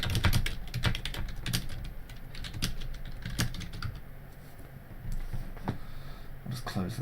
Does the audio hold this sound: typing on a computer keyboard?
yes